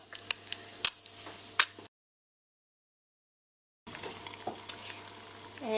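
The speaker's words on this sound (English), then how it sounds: "crack the seagull egg into the pan" A seagull egg frying in butter in a pan makes a soft close sizzle with a few sharp crackles. The sound stops dead for about two seconds, then the frying resumes.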